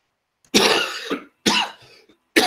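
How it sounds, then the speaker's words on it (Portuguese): A person coughs in two sharp, close bursts with a brief gap between them, then a third cough begins at the very end. "que a tosse está vindo"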